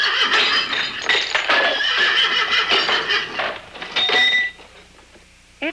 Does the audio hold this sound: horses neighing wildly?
yes